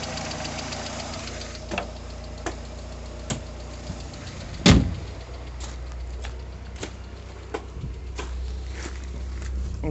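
A 1989 VW Golf Mk2 with a 1.8 Pierburg carburettor engine and automatic gearbox idles steadily up close, with a low hum, faint regular ticking and one louder thump partway through.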